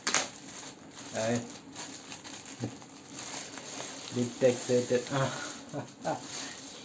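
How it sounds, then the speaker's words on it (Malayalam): Crinkly plastic wrapping on a Boat Party Pal 185 speaker box rustles and crackles in short bursts close by, with a few sharper tearing crackles midway through. "പ്ലാസ്റ്റിക് കവറൊക്കെ ഒന്ന് പൊട്ടിക്കട്ടെ"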